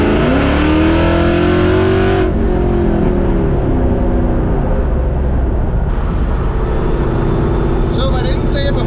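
A supercharged Coyote-swapped GT500 street car drives down the road, its engine loud and close with a rising rev early on, then steady cruising rumble; a voice talks over part of it.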